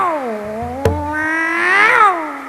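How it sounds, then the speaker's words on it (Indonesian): A hungry cat gives one long, drawn-out meow that wavers and rises before fading, loud and close, with a brief knock partway through. "Hus. Kucing lapar kali."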